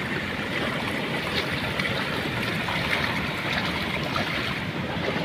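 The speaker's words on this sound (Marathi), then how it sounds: "ही बारकी सांडे वावराची, तिच्यावरून पाणी आलंय पाक।" Floodwater pours over a small field spillway on a farm embankment beside a flooded stream, a loud, continuous rushing roar that stays steady throughout with no voices.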